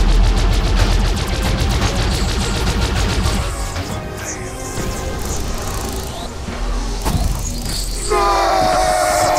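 Video game explosion and rapid gunfire: dense, loud bursts of repeated shots at the start, then a rumbling roar and crashing impacts, with game noise continuing throughout.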